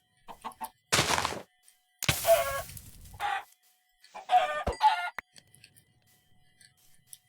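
Minecraft chickens cluck in short separate bursts, several nearby squawks and clucks spaced by quiet gaps, with a faint rooster-like call mixed in and no talking.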